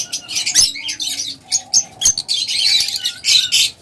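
Red-eyed lutino cage birds kept for sale chirp and tweet loudly and repeatedly up close, bright overlapping calls in quick bursts with brief gaps and an occasional flutter.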